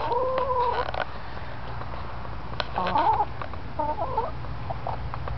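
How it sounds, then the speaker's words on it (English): Chickens cluck in short bursts at close to moderate distance, a few brief calls spaced across several seconds over a steady low background hum. "It's a chicken party."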